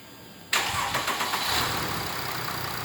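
A 2013 Mercedes-Benz 3-liter diesel engine cranks and fires after a short quiet moment, then settles into a steady, close diesel rumble at idle.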